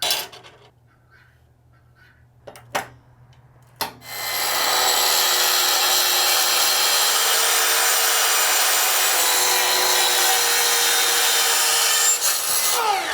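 A 1/8 inch steel plate is cut for a hand-forged chest handle bracket, a few sharp taps followed by a long, steady, loud grinding rasp of the cutting tool that runs close and continuous to the end.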